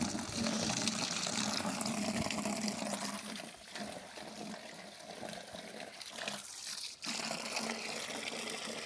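Water pours steadily into an African moony fish tank, a continuous gushing rush that dips briefly near the end before resuming, with no talking.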